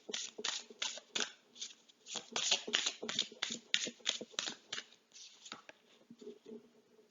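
Oracle cards being shuffled by hand, a quick run of papery riffles and slaps in uneven bursts, close and clear, easing off toward the end.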